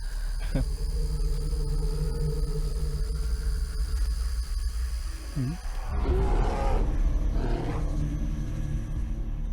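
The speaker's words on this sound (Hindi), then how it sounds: "वो भालू की आवाज थी।" A bear roars in a forest, a loud, drawn-out growling roar rising over a steady background rumble, with a second surging burst near the end.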